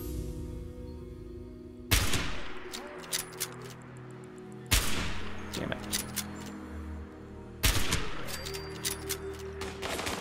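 Gunfire in the video game Fallout 76: three loud, sharp blasts spaced a few seconds apart, each followed by crackling rattles and smaller shots over a droning game background.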